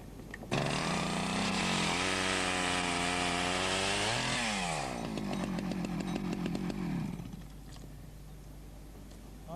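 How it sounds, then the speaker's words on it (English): A chainsaw used for hedge laying roars up to full revs, dips and surges as it cuts through wood, then drops back to a ragged idle, close and loud throughout. "a lot of people say you hadn't ought to use chainsaws, but nowadays you've got to try and save yourself any sweat that you can"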